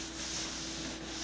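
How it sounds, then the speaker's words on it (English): Wood stain is rubbed into a wooden table board, giving a soft, continuous close-up rubbing and scuffing sound at low level with no talk. "I'm just putting a little bit of the stain in it to cover it"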